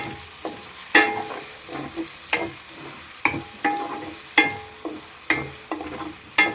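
Chicken fry with spring onions being stirred in a hot pan, a steady sizzle under repeated sharp scrapes and clinks of the spoon against the pan, close and fairly loud, with no talking.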